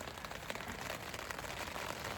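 Rain starts falling on a tent on a high mountain trail near Twin Lakes and Hope Pass, a steady close patter of drops on the fabric with gusting wind and no voices.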